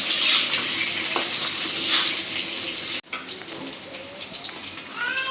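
Egg frying in a little oil for an egg curry, a steady broadband sizzle and crackle that runs close and loud, briefly cutting out near the middle before resuming with small pops.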